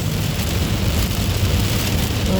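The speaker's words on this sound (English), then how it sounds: "Oh boy, here we go. Dumping downpour." Heavy rain pours down in a dense, unbroken hiss and patter, loud and close, with no voices over it.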